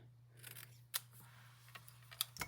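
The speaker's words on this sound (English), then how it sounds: "I want to trim the edges off." Scissors trim the edges off a paper card in a quiet room, giving a few crisp, isolated snips over a faint steady electrical hum.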